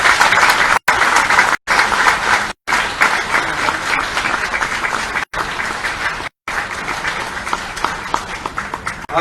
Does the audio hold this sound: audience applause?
yes